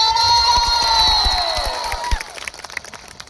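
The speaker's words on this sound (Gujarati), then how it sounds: "જોરદાર તાળી" At a village political meeting, a crowd erupts in loud cheering and whistling, with scattered clapping underneath. The din swells at once, then tapers into sporadic claps and shouts.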